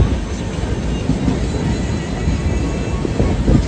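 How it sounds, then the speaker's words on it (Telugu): A train runs across a long railway bridge on a South Indian line, heard from onboard as a steady, loud, continuous rumble with faint wheel clatter throughout. "చూడండి ఇప్పుడు ట్రైన్ వస్తుంది కదా"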